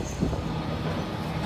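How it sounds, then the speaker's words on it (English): A single-car train on a local rail line gives off a steady low rumble of running noise, heard from on board with no talk over it. "And as ever, it's a one-car train."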